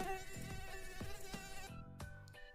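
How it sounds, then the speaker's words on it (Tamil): A mosquito whines close by near a resting lion's ear, a thin steady buzz that rises and falls for a couple of seconds and then drops into brief gaps and bursts. "அந்த பக்கமாக வந்த கொசு சிங்கத்தோட காதில்"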